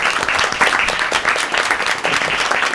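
A wholehearted round of applause fills a school board meeting honoring a coach's 900 wins, dense, steady clapping from a room of people lasting throughout, with faint voices mixed underneath.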